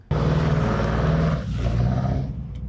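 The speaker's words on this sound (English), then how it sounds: "That's the sound of someone else's car." A car passing close by, a loud sustained engine drone with a steady low hum that swells briefly then eases slightly as it goes by, alone with no talk.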